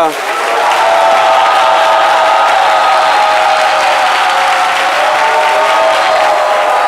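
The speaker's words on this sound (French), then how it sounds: "permettez-moi de vous souhaiter la plus cordiale et chaleureuse des bienvenues au plus grand talk show d'Afrique à travers ces applaudissements nourris du public" Sustained, loud applause from a studio audience at an African midday talk show, dense and steady throughout with a brief swell at the start.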